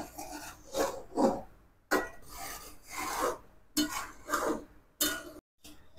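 A spoon scrapes and stirs milk in a kadhai for homemade ice cream, making repeated rasping strokes in uneven bursts with short pauses between them, close and clear with no talking.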